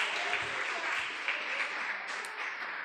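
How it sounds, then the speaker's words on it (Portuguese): A congregation in a church applauds during a Portuguese-language sermon, a steady wash of many hands clapping that holds evenly throughout without any voices over it. "Vamos aplaudir ao Senhor."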